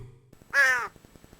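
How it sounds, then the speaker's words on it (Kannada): A single loud crow caw, harsh and close, standing out against a quiet background with faint ticking. "ಇದನ್ನ ನೋಡುತ್ತಿದ್ದ ಕಾಗೆ ಆಗ ಚಿತ್ರಗ್ರೀವರ ಹತ್ತಿರ ಬಂತು."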